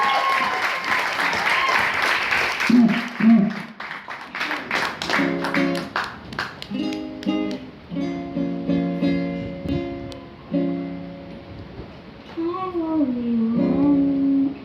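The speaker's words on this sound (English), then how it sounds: "Can you guys give her a round of applause," Applause from an audience at a college open mic night, loud broadband clapping at first that soon fades under music, with a singing voice entering over sustained chords.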